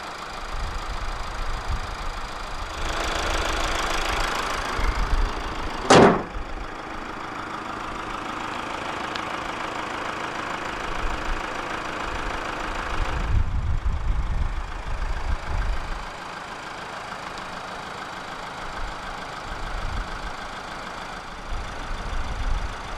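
A 2014 Toyota RAV4 2.0 D-4D diesel with all-wheel drive idles after start-up, a steady low clattering rumble with one sharp brief transient early on and a slight shift in tone partway through, heard alone without voices.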